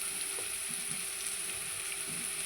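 Ginger garlic paste fries in a pan, a steady close sizzle with faint stirring scrapes, continuous and alone throughout.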